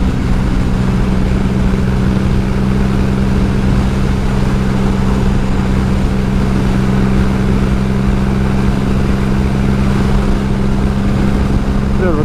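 A Triumph motorcycle engine runs steadily during a ride, a constant loud drone with harmonic hum and heavy wind noise, no clear revving changes throughout.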